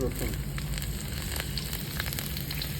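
Chopped garlic frying in goat fat, heard as a continuous close sizzle with fine crackling and occasional spits, steady in level throughout, no talking.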